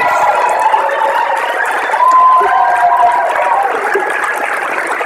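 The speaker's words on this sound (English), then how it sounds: "Come on, big round of applause." A live audience at an Ignite Phoenix slideshow karaoke night breaks into loud, sustained applause with whoops and cheers, a steady wash of clapping filling the room for several seconds.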